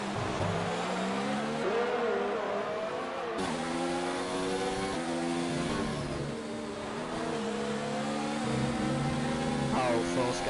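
Formula 1 cars in the F1 2019 game at the Mexico round, engines whining and revving continuously as pitch sweeps up and down through gear changes, with commentary beneath.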